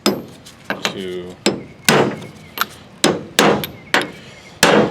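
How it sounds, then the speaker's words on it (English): A hammer striking a socket on a 2002 Toyota Sequoia AC compressor during a teardown gives about ten sharp, close metallic blows in an uneven rhythm, each followed by a short ringing decay. "let me get a hammer."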